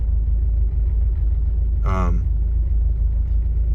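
Steady loud low rumble of a Volkswagen engine idling and shaking from a bad motor mount, heard from inside the car with a brief voice partway through.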